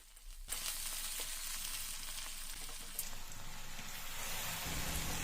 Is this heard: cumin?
yes